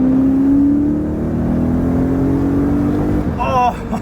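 A BMW E90 M3 fitted with an Akrapovic exhaust revs close by, a deep steady engine drone with a gradually shifting pitch, then a brief change near the end as a voice cuts in.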